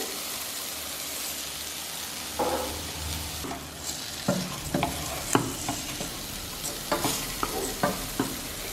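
Basmati rice and cooked njahi beans are mixed in a pot with a spoon, giving soft scraping and wet shuffling strokes with a few sharper knocks against the pot, fairly quiet and close, with a faint background hum.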